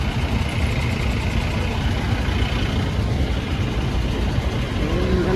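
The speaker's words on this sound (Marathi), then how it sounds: "आम्ही पनवेलच्या पुढे आलोय आणि ट्रॅफिक बघा किती आहे." Heavy road traffic on a highway past Panvel after Ganesh immersion, a dense, steady low rumble of cars, trucks and buses with constant engine noise, heard from close by.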